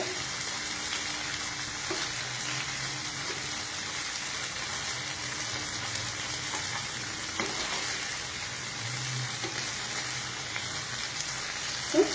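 Paneer fries in a pan, a faint, even hiss of oil with a few soft taps, steady and fairly quiet throughout.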